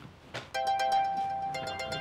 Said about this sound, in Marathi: कोणचा फोन आलाय बघ बरं.